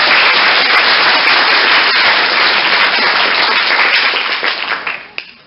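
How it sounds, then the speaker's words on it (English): A large audience at a conference closing session claps loudly and steadily, the applause holding strong before thinning out and fading in the last second. "so can we please give them a round of applause?"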